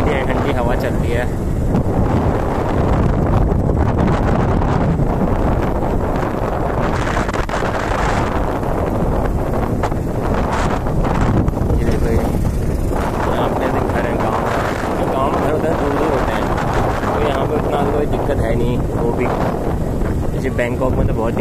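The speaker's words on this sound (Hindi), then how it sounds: "ठंडी हवा चलती है।" Wind buffets the microphone outdoors in a Thai village among tall trees and palms, a steady broadband rumble lasting throughout, loud and close, with no clear speech over it.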